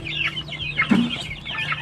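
Native chicken chicks under a month old cluck and peep close by, a busy cluster of short calls overlapping with no speech.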